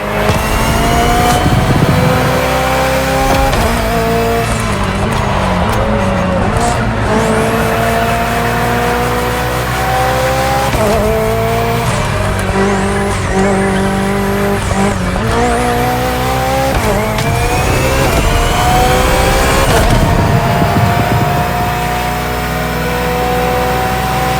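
A BMW hybrid V8 race car in The Crew Motorfest roars loud and near, rising and falling through gear shifts with tire squeals across a long, continuous run.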